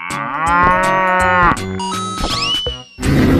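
A cartoon cow gives a long, loud, close moo that bends downward, then a shorter rising moo, over light background music.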